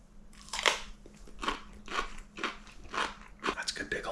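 Repeated crisp bites and crunchy chewing on a spicy homemade refrigerator pickle, close to the mic, with several distinct crunches spaced about half a second apart.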